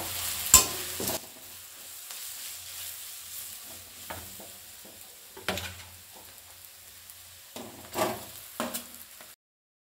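Masala powders being stirred and fried in a pan for a potato dosa filling, with a low steady sizzle broken by several sharp scraping strokes of the spoon, fairly close and without talk.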